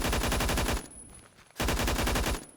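Rapid automatic hipfire from a gun in Roblox Phantom Forces rattles out in two loud bursts, each under a second long, separated by a brief quiet gap with faint background tones.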